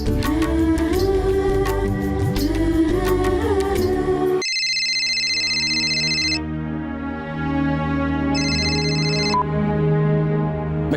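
A phone ringtone plays in repeating bursts of a tonal electronic melody, loud and close, after a stretch of busy background sound.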